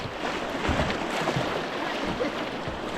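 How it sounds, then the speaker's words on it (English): A kayak paddles down the River Spey. Continuous rushing, splashing water fills the clip at close range, with paddle strokes churning through it and no clear talk. "Keep paddling, just paddle, paddle, paddle."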